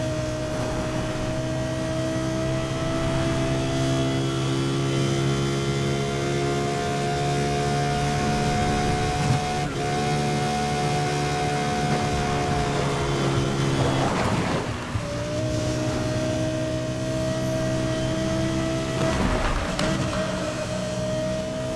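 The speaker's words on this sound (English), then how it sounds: "This thing is naturally aspirated, which it may give it a F1 screech for its engine noise" A naturally aspirated supercar engine in NFS Most Wanted 2012 holds a loud, steady high-pitched screech, pitch shifting between gears with brief dips, over continuous road and wind noise.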